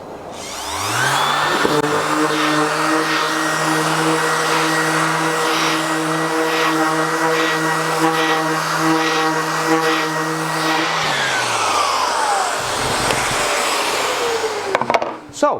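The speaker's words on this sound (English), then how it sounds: "I'm also going to put on my air cleaning system so any particles that do escape into the atmosphere are quickly taken out" A loud, steady machine drone of an air cleaning system and power sander working MDF, running continuously for about ten seconds with a rising start and falling wind-down, then quieter clatter.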